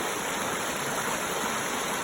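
Fast-moving stream water rushes continuously close by at a prospecting spot, a dense, even hiss and churn with no voices.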